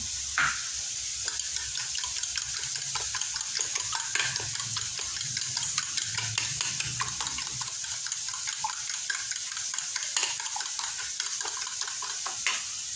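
Eggs frying and sizzling in a pan with sautéed tomatoes, a steady hiss running throughout with scattered clinks and scrapes of a utensil stirring against cookware, close and fairly quiet, with no talking.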